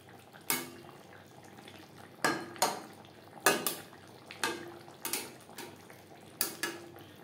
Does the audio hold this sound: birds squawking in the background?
no